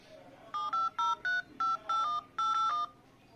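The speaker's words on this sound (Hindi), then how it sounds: "हम अपने समीर भाई को करके देखते हैं एक बार ही फ़ोन" A OnePlus 7T phone plays keypad dialing tones while a call is placed: a brisk series of about nine short, clean beeps, clear and close, with no talking over them.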